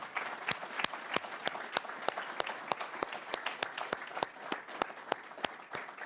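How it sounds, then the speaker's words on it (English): Applause at an awards presentation for student research winners at a 2015 engineering showcase, sparse clapping with sharp individual claps standing out, steady and moderately distant throughout. "let's give all of them a round of applause"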